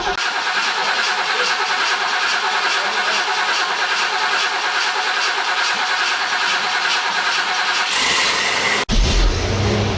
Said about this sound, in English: Yeah, she fired right up.